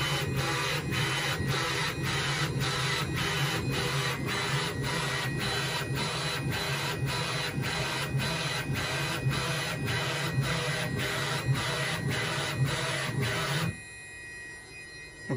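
A 3D printer with a Beacon3D probe scans a bed mesh at 800 mm per second, making a loud, steady rhythmic rasping sweep with regular pulses that runs nonstop and then cuts off abruptly near the end.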